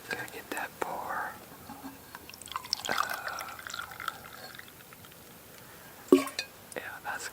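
A hot drink is poured into a cup outdoors during an all-day deer hunting sit, a soft trickle and drip heard faintly under hushed whispering.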